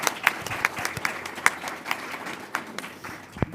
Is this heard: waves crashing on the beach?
no